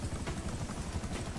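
Helicopter blades in GTA V Online make a brief, rapid low chopping rhythm, close and fairly loud, with no voices.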